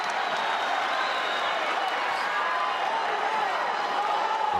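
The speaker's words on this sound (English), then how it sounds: "Crowd gets into it." Arena crowd at a college wrestling dual meet cheering and roaring steadily as a bout heats up, a dense continuous wash of voices with some scattered clapping and whistles throughout.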